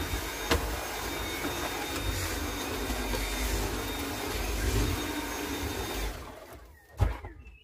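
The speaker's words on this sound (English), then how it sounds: "I'll just vacuum up the cab while you're cleaning that." A vacuum cleaner runs steadily inside a motorhome cab as it is cleaned, a loud continuous whine and rush that cuts off near the end, followed by a sharp knock.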